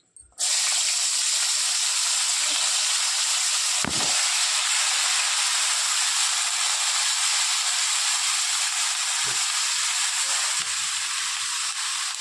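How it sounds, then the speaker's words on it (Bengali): Eggplant goes into hot oil left over from frying dried fish, setting off a sudden loud hiss that holds steady and close for the rest of the time, broken only by a few faint knocks. "দেখুন শুটকিটা ভেজে তুলে নিয়েছি, আর ওই তেলের মধ্যেই বেগুনটা দিয়ে দিচ্ছি।"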